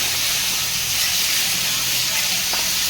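Tomatoes sizzling in a hot pan, a loud, steady hiss that fills the whole stretch with no pauses.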